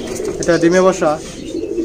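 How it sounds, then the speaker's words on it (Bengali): A pair of red mokkhi pigeons coo in a pigeon-keeping setup, with a short, warbling coo heard close by as someone talks over it. "এখানে এক জোড়া লাল মক্ষি কবুতর দেখা যাচ্ছে"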